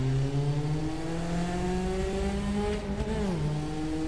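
Two cars in a Porsche driving video game rev and pass by, engines droning with rising and falling pitch, loud and close, with a slight tire squeal near the end.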